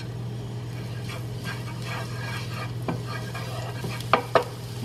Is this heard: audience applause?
no